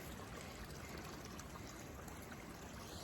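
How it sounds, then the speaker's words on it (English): A clear stream flows beneath a trail bridge on the Pine Mountain Trail, giving a steady, even rush of water that fills the whole stretch without a break or any voices. "I crossed this bridge over this water source, which looks absolutely beautiful"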